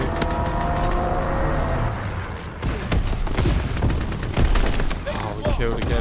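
A strike aircraft strafing run in the Call of Duty WW2 game: loud, dense bursts of rapid gunfire and booming impacts over a constant engine roar, with game voices mixed underneath.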